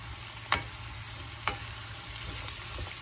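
Potatoes sizzle in a pan with onion that has just turned translucent, a steady hiss of frying with two sharp clatters of stirring, fairly quiet and close, no voices.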